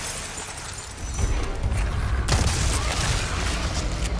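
Hand grenades exploding in Resident Evil 4, heard as a dense, rumbling blast with crackling debris and a sharper burst midway, loud and continuous over a few seconds with no talk.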